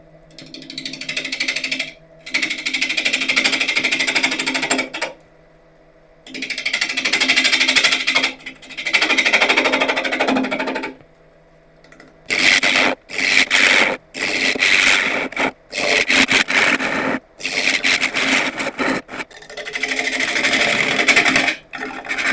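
A wood lathe spins a crotch elm bowl blank at about 720 RPM while a gouge cuts, giving rough scraping and chattering bursts broken by short pauses as the tool lifts off.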